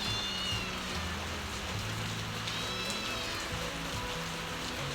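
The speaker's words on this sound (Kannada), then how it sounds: "ಮಳೆ ಬರ್ತಾ ಉಂಟಲ್ಲ" Steady rain falling outdoors, a continuous broadband hiss of drops with a low rumble beneath and a few faint high chirps over it, no talk.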